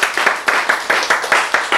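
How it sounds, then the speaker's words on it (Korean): An audience at a church sermon claps together in a steady, even rhythm, loud and close, about nine claps in quick succession. "박수."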